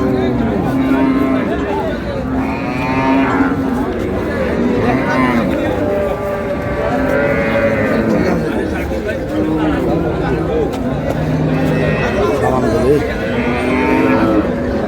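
Cattle, cows with calves, moo repeatedly at a busy livestock market, long drawn-out calls rising over constant crowd chatter and people talking close by.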